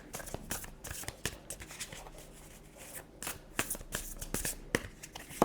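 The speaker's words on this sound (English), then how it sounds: "Let's shuffle the cards a bit more." Close-up riffling and shuffling of tarot cards, crisp bursts of flicks and slaps in quick, uneven clusters with short pauses.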